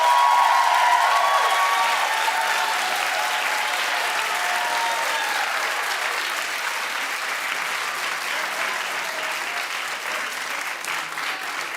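A television studio audience at a talk show claps steadily for several seconds, a loud, even wash of applause that slowly eases without fading out.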